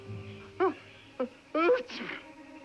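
Someone sneezes in a short, voiced burst after a couple of small catching breaths, close and fairly loud.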